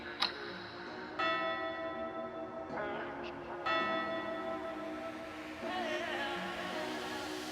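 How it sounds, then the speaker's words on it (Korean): A final bell rings out at Treasure Castle, sustained resonant tones sounding several times in succession with long overlapping decays, moderately faint with no talking. "트레저 캐슬의 마지막 종이 울리고 약속했던 4일의 시간이 끝이 났습니다"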